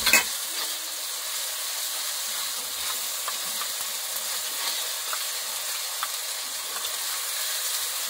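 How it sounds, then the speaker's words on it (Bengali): Chicken kosha cooks in a pan with an even, steady sizzling hiss that holds throughout. Faint scattered ticks and pops sit over it. "চিকেন কষাটা রান্না বসিয়ে দিয়েছি"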